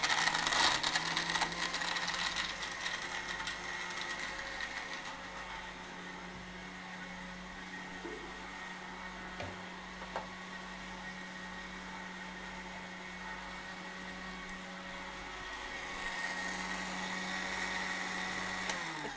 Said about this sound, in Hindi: हम यहाँ पे ब्लेंड करेंगे।